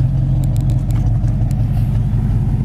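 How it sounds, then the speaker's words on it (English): A 1966 Ford Mustang with dual exhaust and chrome tips runs steadily, its deep, throbbing engine rumble loud and close throughout, with no voices. "dual exhaust sounds great"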